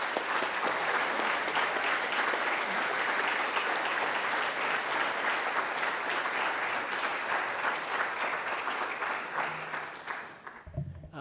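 Audience applause welcoming Cass Sunstein to a lecture on democracy and extremism, loud and sustained from a large crowd, then fading out at the end.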